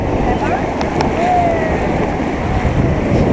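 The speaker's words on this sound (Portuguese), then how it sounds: "Olha a onda!" Sea waves roll and wash at a beach where a young girl is at the shore for the first time, a loud continuous surf roar mixed with wind buffeting the microphone.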